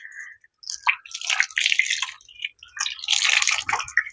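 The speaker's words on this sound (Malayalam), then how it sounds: "ഇനി നമുക്ക് ഇത് ചെറുതായിട്ടൊന്ന് നനച്ചു കൊടുക്കാം." Water poured onto the soil of a potted fruit plant gives a run of dripping, splashing and soft squishy bursts, close and moderately loud, coming in uneven clusters with short pauses between them and no voices.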